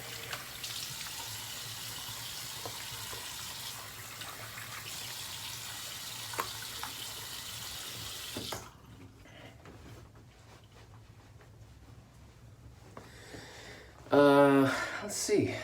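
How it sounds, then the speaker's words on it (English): Cool tap water runs to rinse a face after a shave, a steady broadband rush that stops about halfway through. Quieter handling noises follow, then a brief voice near the end. "We're going to use cool water to rinse this off."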